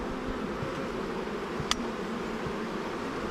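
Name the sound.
honeybees buzzing in an opened beehive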